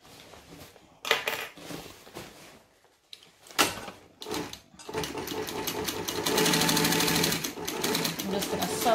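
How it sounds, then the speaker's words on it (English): A sewing machine stitching quilt binding, starting in a few short bursts and then running steadily and louder toward the end, with some handling noise between the bursts. "I'm just going to sew up those last little bits."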